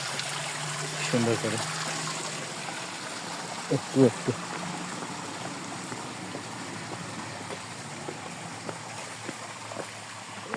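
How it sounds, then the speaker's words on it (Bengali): A small roadside waterfall at Alutila near Khagrachari streams down in a steady soft rush, with a person speaking briefly over it. "দেখতে পাচ্ছেন পানি নামতেছে"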